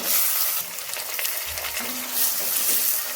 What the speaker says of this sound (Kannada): ಎಣ್ಣೆಯಲ್ಲಿ ಈರುಳ್ಳಿನ ಒಂದು ಸ್ವಲ್ಪ ಫ್ರೈ ಮಾಡ್ಕೊಳ್ಳಿ